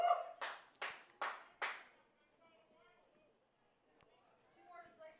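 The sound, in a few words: baseball crowd clapping to rally for a player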